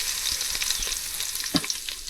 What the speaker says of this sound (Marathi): लसूण पेस्ट टाकली आता जराशी शिजून द्यावी, ढवळून दे.